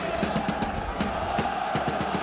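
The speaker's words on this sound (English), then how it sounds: "the crowd are reacting to that now" A stadium crowd in a football video game between Paris Saint-Germain and Chelsea keeps up a loud, continuous roar of voices, with scattered shouts and thumps standing out from the dense wash of sound.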